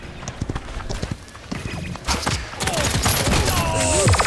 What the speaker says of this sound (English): The hills are alive with the sound of shooting.